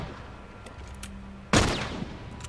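A single loud, close gunshot from The Last of Us Remastered cracks out and rings off in a short decaying tail, preceded by a few faint distant clicks and pops.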